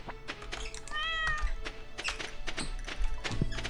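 A cartoon cat in the Stardew Valley farming game gives a single clear, rising and falling meow near the middle, set over steady game music and ambient sounds.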